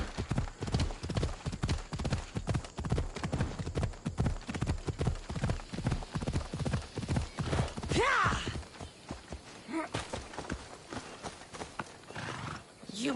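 A horse in a video game clip-clops along in a steady walking rhythm, then lets out a loud neigh midway. Scattered hoof sounds and a snort follow, close and clear, with a faint voice underneath.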